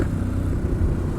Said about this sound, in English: The Multistrada's exhaust is drowning the exhaust on this bike.